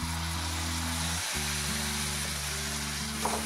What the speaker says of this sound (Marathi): याच्यामध्ये 1 कपभर पाणी घालून घ्यायचं